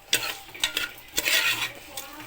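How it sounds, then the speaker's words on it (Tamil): Vegetables coated in masala being stirred in a pot for vegetable biryani, a few scraping strokes of a spoon against the metal over a soft sizzle, close and alone. "நல்லா கிளறி விட்டுட்டு கொஞ்சம் மசாலாலாம் அதில் வேகட்டும்"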